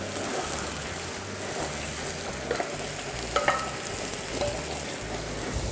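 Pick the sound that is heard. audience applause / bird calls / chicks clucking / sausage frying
sausage frying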